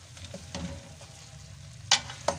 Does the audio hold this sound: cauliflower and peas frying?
yes